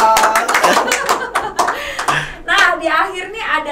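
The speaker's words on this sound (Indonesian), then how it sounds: "Tepuk tangan dong." Scattered hand claps and taps from a small group, mixed with chuckles and lively chatter, fairly close and uneven in rhythm.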